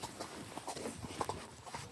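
Hooves of a horse in a sitting trot along a British country lane give a quick, even clip-clop, close and moderately quiet, with light rustling in the background.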